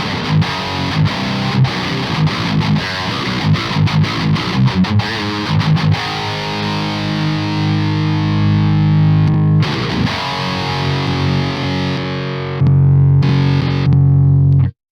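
Heavily distorted metal guitar played through a Subzero amp capture, chugging palm-muted riffs with sharp rhythmic stops giving way to sustained ringing chords, loud and close with no talk.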